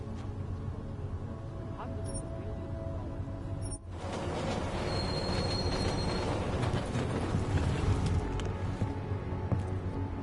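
A metro train arrives in the video game Deus Ex, set in Prague's transit system, with a sudden swell into a steady rumbling roar and faint wheel squeal that continues throughout.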